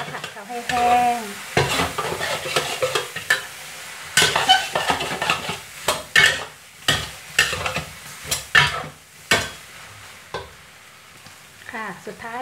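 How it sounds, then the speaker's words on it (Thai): Dried fish maw stir-fried in a pan over high heat, with loud sizzling and repeated scraping stirring strokes in uneven bursts, up close and with no talking. "นี่เราก็จะใช้ไฟแรงนะคะผัดเขาให้แห้ง"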